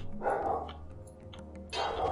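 Two nearby barks from a dog indoors, one at the start and one near the end, with quieter background sound between them.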